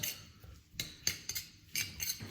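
A utensil stirring olive oil into chimichurri sauce in a bowl, a series of sharp clinks and scrapes in an uneven rhythm, close and fairly quiet.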